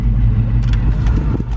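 A Drift Cobra's engine idles steadily with a deep, loud rumble, while brief higher whooshes, likely the air conditioning blower, rise over it.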